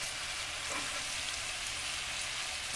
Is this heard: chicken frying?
yes